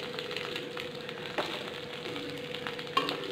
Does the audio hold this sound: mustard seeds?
yes